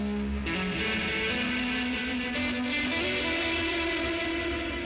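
Electric guitar chords played through a Dark Star Stereo reverb pedal set to a delayed-onset reverb, a loud, sustained, heavily washed wall of tone that swells and rings continuously with no talking.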